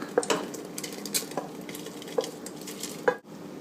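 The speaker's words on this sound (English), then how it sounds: "now we will add these mushrooms with the water to the soup." Mushrooms and their soaking water go into a pot of Czech mushroom soup, with a few close clinks and knocks of a utensil against the pot over a soft wet stirring and pouring noise.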